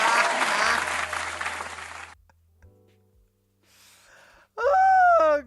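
Canned applause sound effect: a burst of dense clapping and cheering for about two seconds that cuts off abruptly, followed by a low hum, faint noise and then a loud, tonal vocal groan.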